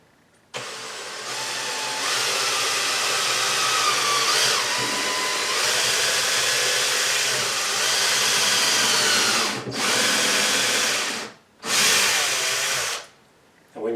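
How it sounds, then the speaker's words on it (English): A power drill fitted with a slightly thicker bit enlarges a knob hole in a kitchen cabinet, whirring loud and close in long sustained runs with pitch shifts under load, cutting off briefly twice near the end. "I use a drill bit that's a little bit thicker so we can make a little bit bigger hole"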